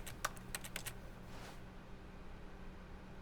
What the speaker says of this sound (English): Why am I hearing keyboard sounds?